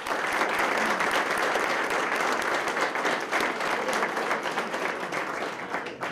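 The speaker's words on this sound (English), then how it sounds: "Let's give him a round of applause." An audience applauds at a Sarasota Police Department promotional ceremony in 2014, a loud, dense and continuous round of clapping that fills the whole stretch before slowly easing off.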